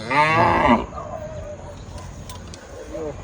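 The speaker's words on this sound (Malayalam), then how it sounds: "പശു കുറേ വരുന്നുണ്ട്" A loud, drawn-out cow moo opens in Mumbai, followed by quieter farmyard noises and a faint distant call.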